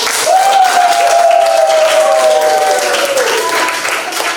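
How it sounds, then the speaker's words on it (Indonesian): A classroom of students applauds in a steady, dense wash of clapping for several seconds, with a voice drawn out faintly over it. "Tepuk tangan untuk kita semua."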